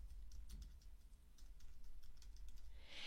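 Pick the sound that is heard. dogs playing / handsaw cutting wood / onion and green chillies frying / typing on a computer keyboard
typing on a computer keyboard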